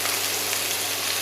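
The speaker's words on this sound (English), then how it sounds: "Strong frying." Potato pieces frying in smoking-hot oil in a pan, a dense, even crackling sizzle that stays loud and steady throughout, with no voices.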